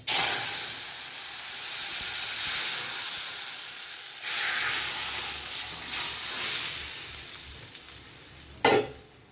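Vegetables hitting hot oil tempered with radhuni, a broad steady sizzle and hiss close by with a stir, easing then swelling again and ending in a brief sharp scrape, no voices.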